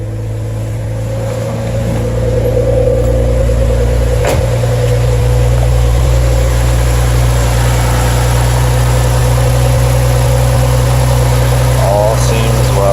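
A 2010-2012 Ford Fusion Sport engine idles steadily after a Steeda intake install, a loud, even hum running throughout with a brief start-up surge near the beginning.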